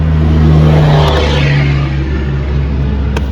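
A truck rumbles past outdoors while someone replaces the front door handle on a 7th-generation Nissan Maxima. The deep, loud engine roar swells and fades without any talk.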